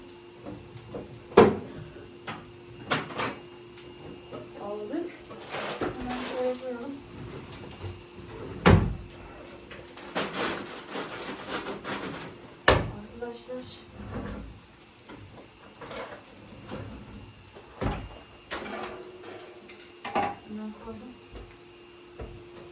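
Kitchen cupboard doors and drawers open and shut in a series of scattered knocks and thuds over about twenty seconds, with faint running water and household bustle between them.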